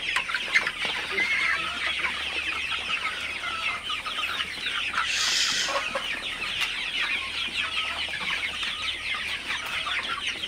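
A flock of Sonali super hybrid chickens drinks water at midday, filling the air with steady, overlapping clucks and chatter at a constant level, with no human voice.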